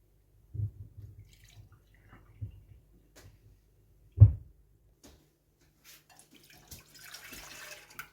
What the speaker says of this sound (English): I'm going to get my lactose free milk, and I'm going to pour in 1 cup.